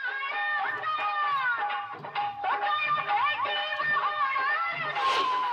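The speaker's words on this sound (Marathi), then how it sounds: "पाहुण्यांची गर्दी" Guests crowd together at a cow's baby-shower celebration in Maharashtra, their lively, overlapping voices rising and falling close by in a continuous festive hubbub.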